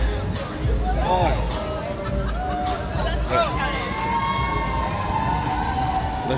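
A crowd walks and chats along a busy Nashville street, a steady hubbub of voices and footsteps with a siren wailing up and down in the distance.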